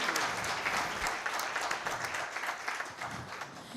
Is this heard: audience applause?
yes